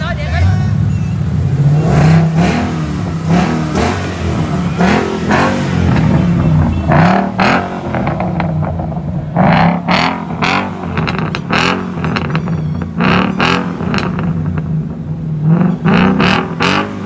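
A Ford Mustang GT500 revs its exhaust repeatedly in sharp bursts over a continuous rumbling engine tone, with overlapping crowd voices or speech mixed in throughout.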